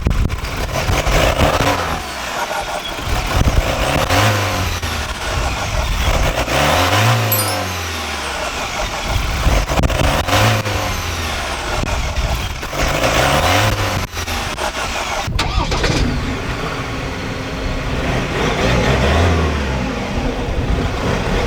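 A Ford Ranger Wildtrak with a 2.0-litre inline four-cylinder bi-turbo diesel and ten-speed automatic revs and accelerates loudly, its engine note climbing and falling through several sweeping surges without any talk.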